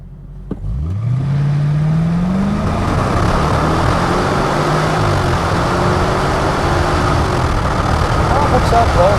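A 2004 Ford Thunderbird with a 3.9 V8 pulls away from a dead stop with traction control off, the engine note climbing steadily through a long loud acceleration heard from inside the car, with road and wind noise building behind it.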